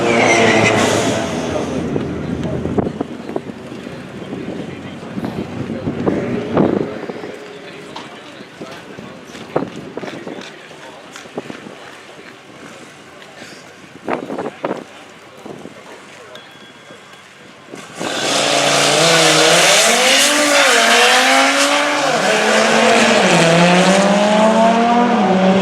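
An Audi RS3 with a Unitronic Stage 2 tune on E70 fuel drag racing at Maple Grove: wind and distant track noise, then a loud, close engine roar that rises and falls sharply through rapid gear changes.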